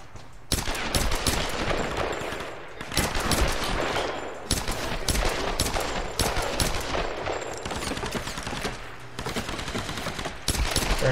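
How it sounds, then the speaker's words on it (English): Sustained gunfire from the video game Tomb Raider, with rapid bursts and overlapping shots layered into a dense, loud fusillade that runs for the whole stretch, and no voices over it. "Nope, I still hear a gunfire."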